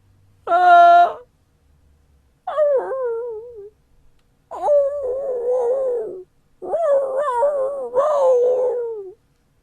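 A human voice imitates a dog, giving four drawn-out whimpering howls one after another, close and loud with short pauses between them.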